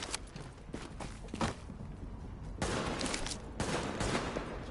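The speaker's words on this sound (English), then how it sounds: "I'll shoot you in the arm. And then in the chest." Dense bursts of rapid gunfire in The Division, a third-person shooter, aimed at a grenadier boss; the shooting runs in close, loud volleys with brief gaps, growing heavier toward the end.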